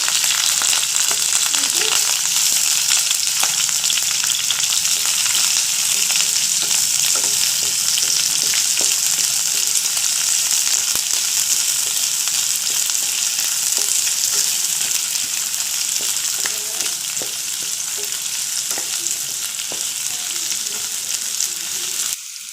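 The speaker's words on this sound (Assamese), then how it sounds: "এতিয়া আলু ভাজি থোৱা তেলখিনিতে শুকান জলকীয়া দুটা আৰু পিঁয়াজখিনিও দি দিম।" Two dried red chillies and onions fry in oil left over from frying potatoes in a kadai, giving a loud, continuous sizzle that holds steady without pause.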